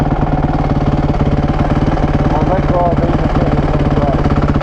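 A Honda dirt bike engine, a WR250R or CRF450X, running hot and close by with a steady rapid low thumping idle, while people talk over it.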